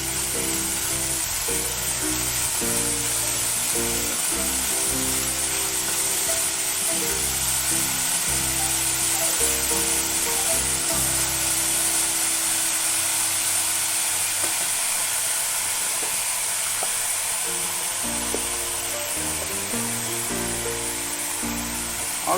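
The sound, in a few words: stirring and mixing in salt and turmeric while cooking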